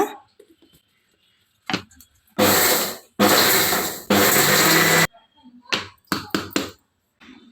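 A kitchen mixer coarsely grinds peppercorns for a spice mix: two loud, harsh whirring bursts up close, split by a brief stop, with quiet clicks and handling taps before and after.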